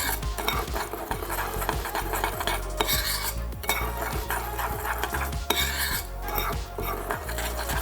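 A spoon scrapes and clinks around a bowl while mixing an olive oil scrub, giving steady, close, repetitive stirring taps with no talking.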